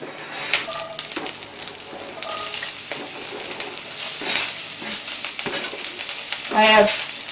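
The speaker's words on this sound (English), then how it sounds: "let's go ahead and throw the onions in there" Freshly chopped onions sizzling in a small cast iron skillet, a steady crackling fry with scattered pops and occasional scraping of a utensil, moderately close and without talk.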